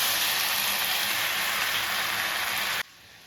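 Tomato pieces hit hot oil in a pan and give a steady, loud, hissing sizzle that cuts off sharply near the end.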